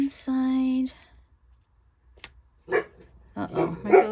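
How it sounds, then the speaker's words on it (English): A dog gives a single short, close bark in an indoor room, followed after a pause by a person talking. "Uh-oh, there goes my dog."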